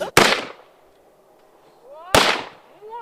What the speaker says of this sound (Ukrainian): Три постріли і мішень повалилась під руками Оксани